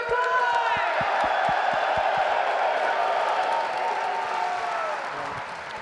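A Birmingham esports arena crowd at a Call of Duty League tournament cheers and claps steadily, with sharp individual claps over a loud, sustained roar that eases slightly near the end.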